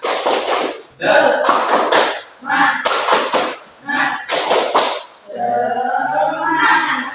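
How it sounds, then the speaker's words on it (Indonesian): A school class stands and does the rhythmic tepuk semangat spirit clap, sharp bursts of group claps in a patterned rhythm, loud and close, ending with voices chanting together. "Kita beri semangat dulu ya. Semangat seperti biasa. Tepuk semangat."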